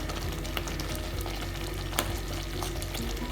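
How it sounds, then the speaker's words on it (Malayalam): Ghee stirred into a thickening jaggery and millet payasam, a continuous close sizzle with scraping stirs and a couple of sharper clicks, no voices. "ഈ സമയത്ത് ഞാൻ 1 ടേബിൾ സ്പൂൺ നെയ്യാണ് ഇതിലേക്ക് ചേർക്കുന്നത്."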